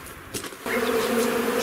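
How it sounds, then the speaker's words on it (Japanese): Honeybees buzzing at an open hive during an inspection, a dense close drone that swells after a brief softer start and holds steady, with no talking. "順調に蜂は増えています。"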